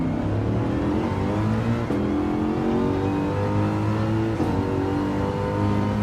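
Race car engine revving hard out of a corner in second gear at Spa in Belgium, a loud sustained drone with rising harmonics, two brief dips around upshifts.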